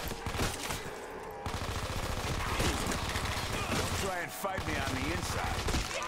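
Rapid full-auto MP7 submachine gun fire in Black Ops 3 Zombies, dense continuous bursts with a brief break, loud and close, with someone talking over the shooting.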